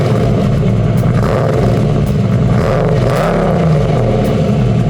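Volkswagen Cabriolet VR6 engine running, a loud, steady rumble with slight rev fluctuations, close up and without speech.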